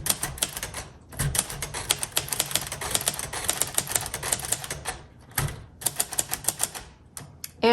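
Typing on a 1957 Royal Quiet Deluxe manual typewriter, with rapid sharp key strikes in close, loud bursts, a short pause near the middle, and a carriage return thump at the end.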